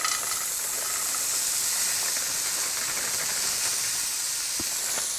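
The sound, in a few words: frozen peas added to cooking vegan paella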